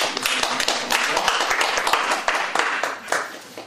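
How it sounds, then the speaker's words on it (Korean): Worshippers in a church sanctuary give a round of thankful clapping before a sermon, many hands striking in a fairly rhythmic, close, lively burst that carries on steadily and fades slightly at the end. "주님 앞에 감사 박수 드리겠습니다."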